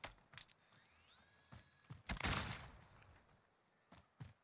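A thrown grenade bursts in a 2v2 online shooter match: one loud, broad blast about midway, bracketed by sharp clicks and short gunfire-like cracks that fade back to a low ambient hum.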